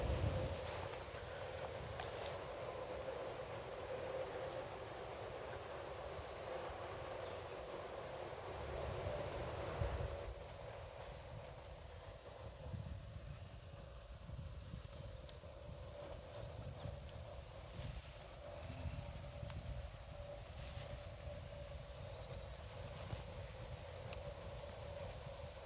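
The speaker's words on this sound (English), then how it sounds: "The wind is blowing." Outdoor wind blowing steadily into a microphone out in the open in Ohio, a continuous rushing roar with gusty swells, louder at the start and then easing to a constant background.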